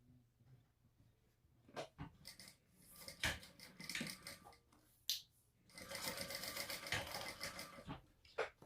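A sewing machine stitches a bag lining seam for a crossbody bag in short, faint, stop-and-start bursts mixed with handling and rubbing noises, followed by a longer run of stitching.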